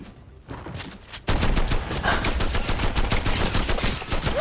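A light machine gun in a video game opens up in a long, rapid, unbroken burst of loud shots after a brief quieter lead-in, the sustained rattle carrying right to the end.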